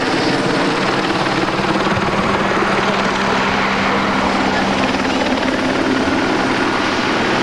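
An aircraft engine roars steadily and loudly throughout, up close at a 1981 air meeting in Yverdon during an aborted takeoff, with a constant drone and no pauses.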